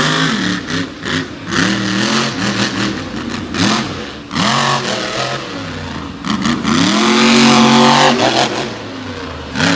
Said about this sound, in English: a wild sideways launch for the big Ford out of Ohio